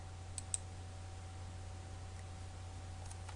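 A computer mouse right-clicked during programming work, giving two faint close clicks early on and a couple of fainter ticks later over a quiet steady hum.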